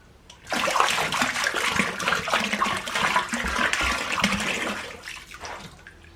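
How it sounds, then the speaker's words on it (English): Liquid glaze is poured over large wheel-thrown ceramic vessels, making a steady, close splashing, running-water sound that swells and then trails off after a few seconds. "So I'm going to get some glaze on these now"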